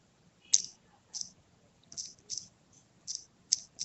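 Keys on a computer are typed in a steady series of crisp, isolated clicks, roughly one every half second, close and clear against near silence with no talking.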